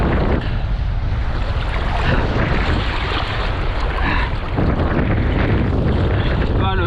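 Loud, constant roar of wind buffeting the microphone with choppy sea water splashing during a kitefoil session in poor conditions, a voice faintly heard under the noise.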